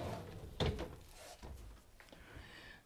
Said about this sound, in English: Soft closed doors and drawers.